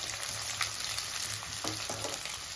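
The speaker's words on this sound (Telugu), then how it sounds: "చికెన్తో పాటే వేగిపోతాయి ఆనియన్స్." Chicken and onions fry in a pan with a steady, close sizzle and a few soft stirring scrapes, no voices over it.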